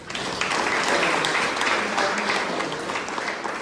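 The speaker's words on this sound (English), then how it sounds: "let's just give them a big round of applause" A forum audience gives a round of applause for a panel of experts, steady dense clapping that holds evenly for several seconds without letting up.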